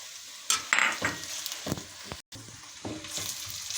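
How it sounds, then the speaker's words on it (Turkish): Onions and peppers sizzle and fry steadily in a pan, with occasional stirring scrapes and clinks, quiet and close, no talking. "Soğanımızla biberimizi kızartıyoruz."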